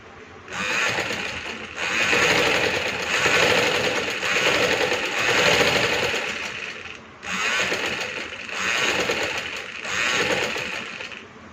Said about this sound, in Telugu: ఇప్పుడు నేను చూడండి ఈ ఫాల్ వేస్తున్నాను